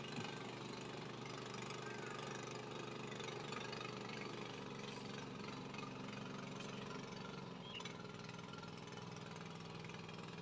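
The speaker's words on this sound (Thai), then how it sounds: "มีเรือข้ามฟาก" A steady, low ferry boat engine drone runs throughout on the Mun River, even and unbroken, idling or chugging along at moderate distance.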